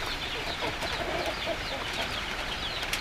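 Dense overlapping clucking and peeping from four-week-old Rhode Island Red chicks fills the scene continuously, close and busy, with no talking.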